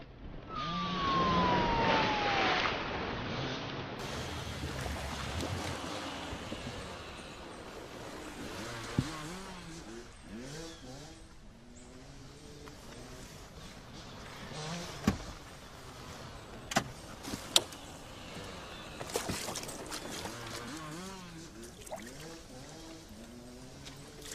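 A car speeding in a police pursuit: a sustained engine roar with rising and falling revs, a siren-like wail, and a few sharp knocks, moderately loud throughout with no talk.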